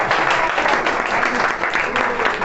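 A steady burst of applause from a crowd at a college farewell party after a qawwali performance, dense and continuous, with many hands clapping at once.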